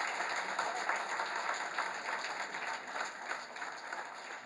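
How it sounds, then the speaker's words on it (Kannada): Audience applause at a film title launch event, a steady, dense wash of clapping from a crowd that holds evenly throughout without voices breaking through. "ಬರಲಿ ಒಂದು ಚಪ್ಪಾಳೆ."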